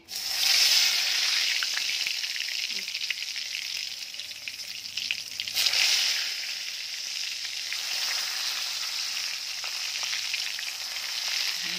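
Eggplant pieces fry in spiced oil in a pan, giving a continuous, fairly loud sizzle with a faint clink of a utensil partway through and no talking.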